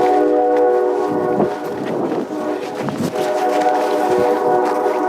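A train passes near a hiking trail, its horn sounding as a loud, sustained multi-tone blare over the rumble of rolling cars. A voice briefly speaks over it.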